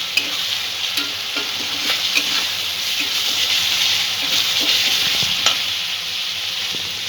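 Chili powder and slit green chillies being stirred in a frying pan of oil for a malai egg curry, a steady bright sizzle with scraping spatula strokes throughout, close and continuous with no talking.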